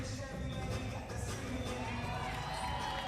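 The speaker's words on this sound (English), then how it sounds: "The crowd went crazy." Crowd cheering and whooping at the USBF United States Championships, a dense, steady roar of voices with shouts rising through the noise for the whole stretch.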